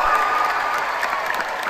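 Steady applause from a large concert audience filling SAP Arena in Mannheim, dense and even throughout with no pauses.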